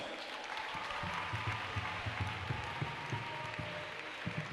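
A crowd applauds steadily, a dense wash of clapping heard from within the audience throughout, greeting a dance group at a gymnasium show in Oloumi.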